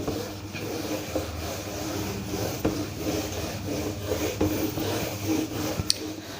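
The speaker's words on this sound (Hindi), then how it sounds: "रब कर देते हैं।" Board being erased by rubbing during a maths lesson, a steady scratchy swishing that continues throughout at close range, with a few small knocks and no talking.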